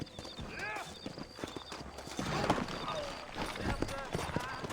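Horses clip-clop at a steady walking rhythm in the Red Dead Redemption video game, set in New Austin, with hoofbeats close and clear under continuous talking and ambient game sound.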